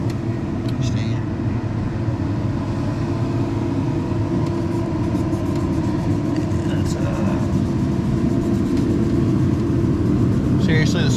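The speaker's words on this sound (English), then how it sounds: "the sweeper truck has to show up right when I'm doing this" A street sweeper truck rumbles close by outdoors, a loud, steady low engine drone with whirring and brush noise that holds for the whole stretch, with no voices.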